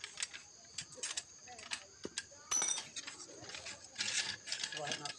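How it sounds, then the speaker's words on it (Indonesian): Metal bolts being tightened by hand while assembling a large satellite dish antenna outdoors, with irregular clinks and ratcheting clicks close by and someone talking quietly in the background. "Kita kencangin dulu baut-bautnya."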